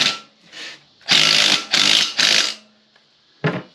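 Lug nuts being run onto a wheel of a Bel Air during a frame swap, heard as several short, loud bursts of a power tool whirring, some spaced and some back to back, with quiet gaps between.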